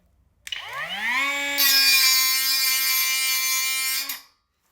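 An angle grinder spins up with a rising whine, then grinds iron steadily at a high pitch for a few seconds before cutting off abruptly.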